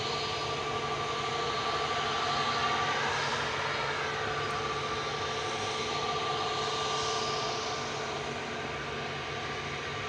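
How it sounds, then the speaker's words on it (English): An ATR 72 turboprop airliner at Manchester Airport drones steadily with a sustained engine roar and a faint high whine, loud and constant throughout, with no speech. "ATR 72."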